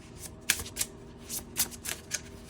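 Tarot cards being shuffled and drawn, a quiet series of crisp riffling bursts at an irregular rhythm, close and alone.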